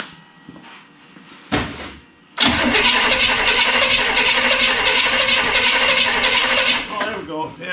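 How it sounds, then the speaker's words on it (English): A burned-up rat rod car's engine cranks over with the ignition off after a brief earlier burst, then churns in a loud, steady, rhythmic turnover for about five seconds before slowing near the end; people talk underneath. "Maybe I'll crank it over a few times without the"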